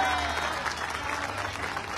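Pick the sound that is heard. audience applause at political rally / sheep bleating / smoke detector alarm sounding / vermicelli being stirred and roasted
audience applause at political rally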